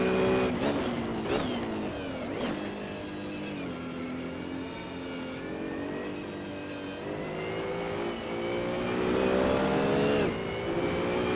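Race car engine from a PC racing game in career mode, droning steadily with rising and falling revs through gear changes as the car laps, loud and continuous with no talk.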